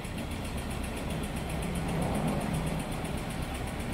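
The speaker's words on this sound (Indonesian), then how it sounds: "Mesinnya halus." A 1987 Suzuki Carry minibus idles nearby, a smooth, even engine hum with a steady low rumble and faint regular ticking throughout.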